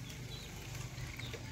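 Ducks on a farm feeding on azolla, a steady low babble of quacking and clucking from the flock filling the whole stretch, fairly close, with no talk.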